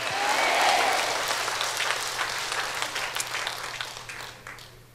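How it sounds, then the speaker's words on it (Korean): An audience at a Catholic retreat talk breaks into clapping on the priest's cue, a full burst of many hands that peaks early and then thins out gradually over five seconds. "박수 한번 칩시다"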